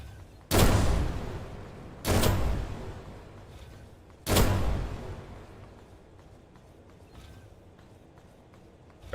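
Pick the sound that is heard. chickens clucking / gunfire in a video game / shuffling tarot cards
gunfire in a video game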